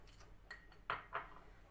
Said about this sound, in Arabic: هنبدأ ان احنا نقلب كويس جدا بالشكل ده